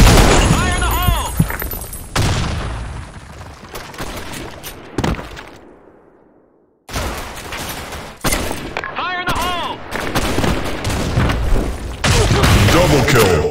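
Video game combat: a grenade goes off with a deep boom, and bursts of gunfire crack all around it, with a short quiet gap partway through. Game voices shout over the shooting.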